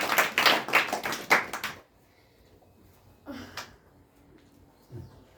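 An audience claps steadily and loudly for under two seconds before a speech, then stops, leaving only a few faint taps.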